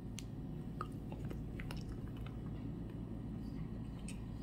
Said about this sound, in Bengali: খেয়ে দেখি।